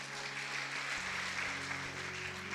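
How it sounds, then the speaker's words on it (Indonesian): Church congregation clapping together after a sermon, a soft, continuous wash of applause heard from a distance over a low hum. "Tepuk tangan buat Tuhan Yesus."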